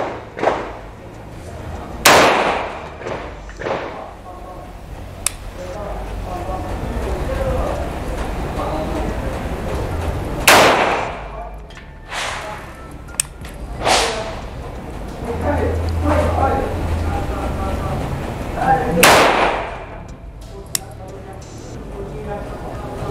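A Taurus PT92AF-D pistol fires 124-grain FMJ rounds at a target 10 yards away: about a handful of sharp, loud cracks spaced several seconds apart, with someone talking quietly between shots.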